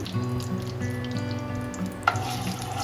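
Ghee and oil heating together in a frying pan for vegetarian fried rice give a steady low sizzle with a faint hum underneath and one brief clink partway through.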